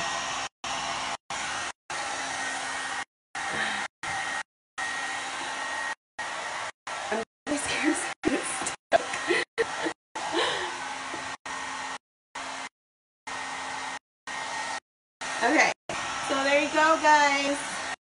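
A L'ange brush hair dryer runs with a steady, loud whirring blow that repeatedly cuts off and restarts in short bursts, then pitches up and wavers near the end.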